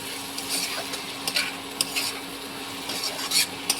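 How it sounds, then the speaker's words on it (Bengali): Sugar is stirred into vermicelli fried in ghee, making a close, continuous scraping and stirring against the pan over a light sizzle, with small irregular clicks of the utensil. "চিনি দিয়ে এবার ভালো করে নাড়িয়ে নেব।"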